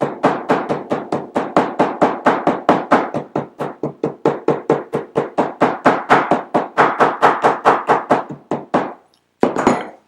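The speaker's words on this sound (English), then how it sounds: "Let me do a little bit of hammering here." Folded leather for a keychain is struck with a hammer in a rapid, even series of about forty close, sharp thuds, with a brief pause before a final couple of blows.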